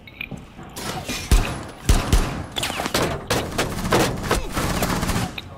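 Rapid, loud bursts of automatic gunfire from the video game Rainbow Six Siege, with dense overlapping shots and a few heavy thumps, and no talk over it.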